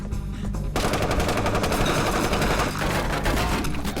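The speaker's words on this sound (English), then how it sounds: "Tony fires at Wilson and Judy, injuring Wilson as they disappear" Loud, rapid machine-gun fire rattles in dense continuous bursts during a street shootout in the Hong Kong action film Flashpoint.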